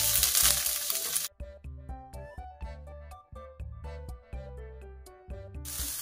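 Fish curry base fries in hot oil with a loud, dense sizzle at the start, then gives way to melodic music before the frying noise briefly returns at the end.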